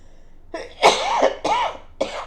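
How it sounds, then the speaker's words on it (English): A person coughs several times in a quick, harsh series of about four close bursts, loud and near. "Sorry about coughing so much."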